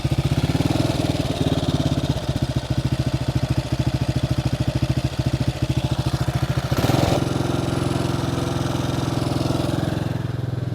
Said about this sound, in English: That may be idling just a bit high right there.